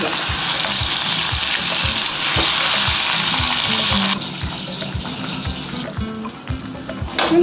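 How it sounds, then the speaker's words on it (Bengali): Steady, bright sizzling of fish frying in hot oil, continuous and close, with soft rhythmic low thumps underneath. "তেলটা গরম হয়ে গেছে। এবার এগুলোকে আমি ভেজে নেবো।"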